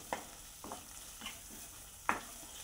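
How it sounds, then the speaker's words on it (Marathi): Masala paste stir-fried in oil for Punjabi dhaba-style dum aloo gives soft sizzling under a spoon scraping the pan in a few slow strokes, faint and close, with no one talking. "आपण आपल्या वाटणाला चांगलं तेल सुटेपर्यंत 2 मिनिटं परतून घ्यायचं आहे।"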